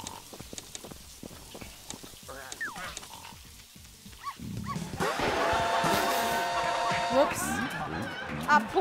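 Dog barking in the video game Neighbours Back From Hell, with a few sharp barks and yelps early on, then busier game noise that grows louder while someone talks over it.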